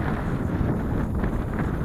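Strong wind buffets the microphone in a constant low roar, loud and close, with no pauses.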